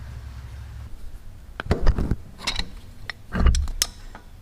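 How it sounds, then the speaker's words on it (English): A wrench loosens the fuel filter fitting on a Kubota L Series tractor, giving a few close metallic clicks, scrapes and clunks in short bursts against a quiet background, with no talk. "we'll turn the fuel off right there, and then we'll grab a wrench"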